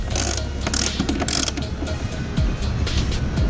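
A ratchet clicks in quick repeated strokes up close as bolts are tightened into nutserts on a carbon fiber ram air intake for a Honda Civic Type R FK8, with a steady mechanical whir underneath.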